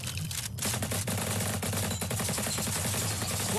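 Rapid, continuous automatic gunfire in a VR shooting game, loud and close with dense repeated shots running throughout without pause.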